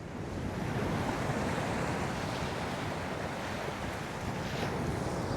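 Sea waves surge into a coastal rock pool on the Maltese shore at a national park, a steady loud wash of surf with wind buffeting the microphone throughout and no voices.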